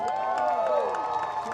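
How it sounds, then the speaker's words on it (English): Crowd at a town anniversary parade cheering for a veterans club marching past, a continuous wash of voices and whoops with a sustained shout rising and falling over the steady noise. "Give them a big cheer."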